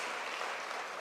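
A church congregation gives a thankful round of applause to a visiting professor after a sermon, a dense, continuous roar of many hands clapping at once with no gaps.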